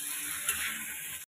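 Meat sizzles steadily in a pan after spice masala is fried, a close, continuous crackling hiss with a brief louder burst midway and no voices.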